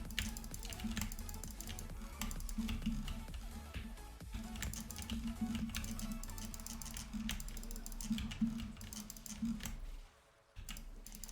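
Rapid, continuous mouse and keyboard clicking while playing Diablo 3 with a fast Frenzy Barbarian build, dense overlapping clicks over game sound, dropping out briefly near the end before resuming.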